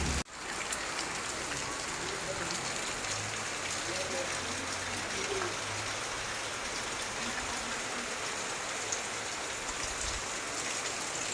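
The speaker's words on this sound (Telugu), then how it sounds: "కొల్లాపూర్లో భారీ వర్షం మొదలైంది" Heavy rain pours steadily through a town at night, a dense, continuous hiss of drops on roads and surfaces with water running in the streets, loud and unbroken for the whole stretch.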